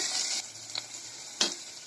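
Chopped garlic and onion fry in a pan, a brief close sizzle with a bright hiss that swells and fades, punctuated by a couple of sharp utensil taps.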